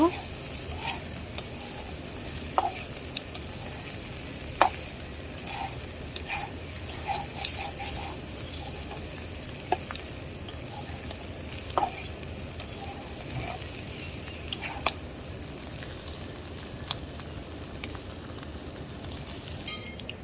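Snake gourd (chichinga) frying in a pan, a low steady sizzle broken by frequent clinks and scrapes of a spatula stirring against the pan, with faint talk in the background.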